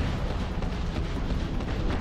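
A spaceship's weapon fires in the space game Starfield, a dense, steady low rumbling roar with a continuous booming blast quality filling the whole stretch at close range, with no talking over it.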